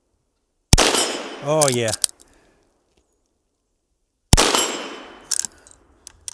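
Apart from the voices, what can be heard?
Henry .22 Magnum Mare's Leg shots at steel plates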